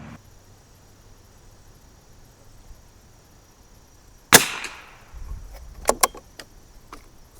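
A 1972 Anschutz Model 54 Match single-shot rifle fires Eley 10X rimfire ammunition: one sharp close crack followed by a decaying tail, then a few lighter metallic clicks and handling noises.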